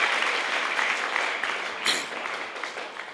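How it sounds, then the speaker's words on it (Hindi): An audience at a farewell ceremony applauds to welcome a guest, a full, sustained round of clapping from many people that swells briefly and then tapers slightly toward the end. "उनका एक बार जोरदार तालियां बजाकर हम स्वागत करना चाहते हैं"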